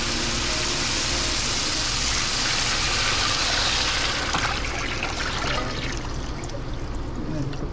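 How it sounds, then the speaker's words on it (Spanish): Water pours steadily into a pot of cooked tomato, garlic and onion as the base for a shrimp and white perch soup, a continuous loud splashing rush that runs throughout with a faint voice underneath. "Ahorita vamos a proceder a agregar el agua"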